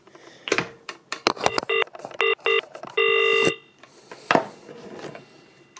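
A PMG 401 telephone with a Dial 21 rotary dial is dialed nearby: sharp dial clicks and clatter mix with short bursts of steady beeping tones and a longer tone, then more handling clicks.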